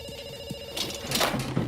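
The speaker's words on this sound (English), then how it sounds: "we pick up the phone because it's ringing" A telephone rings inside an insurance commercial, a steady electronic ring heard up close with no voices over it.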